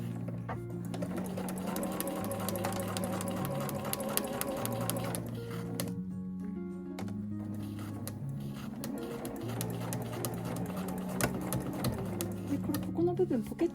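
A household sewing machine stitches the sides of a nylon tote bag in steady whirring bursts, with a short pause midway, close and clear.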